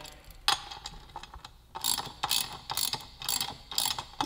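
A ratchet wrench clicks in quick bursts while working on the rear wheel of a 2015–2017 Yamaha YZF-R1 motorcycle during a chain and sprocket install, close and crisp, with short pauses between strokes.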